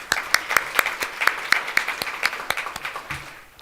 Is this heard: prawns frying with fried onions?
no